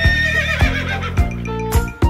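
A horse neighs loudly and close by, with several short whinnying bursts in a row and light hoof clops between them.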